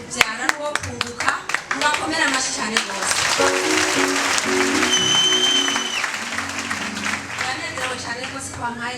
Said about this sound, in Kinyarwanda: mubakomera amashyi cyane rwose